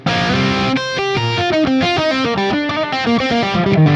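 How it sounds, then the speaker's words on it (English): Electric guitar played through a Fractal Axe FX on the lead dry preset with a touch of reverb, carrying a continuous, sustained melodic lead line with overdriven tone, up close and without any talking. "for lead dry, I'll still have a bit of reverb on"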